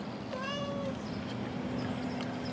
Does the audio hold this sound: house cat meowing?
yes